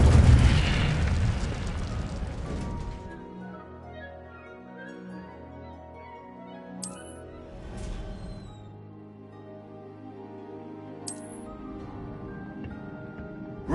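A booming burst opens the Incendio fire spell, its rumble decaying into a long, low sustained roar with a few faint high chimes scattered over it.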